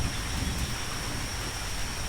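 Rain at the start of the rainy season in a Costa Rica rainforest, a steady dense hiss of falling water with no distinct drops, continuous and fairly loud, with no voices.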